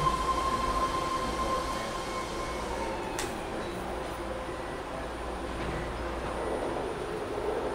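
A BART Fleet of the Future ten-car, three-door Blue Line train arrives at a station platform, a steady rolling rumble with a brief high squeal midway and faint background rattling.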